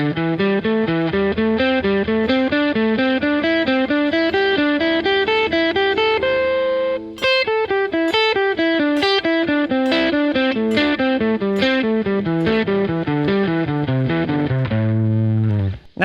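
Electric guitar with distortion and effects runs a pentatonic scale in a scalar four pattern, a fast steady stream of single notes climbing and descending, loud and continuous, ending on a held low note.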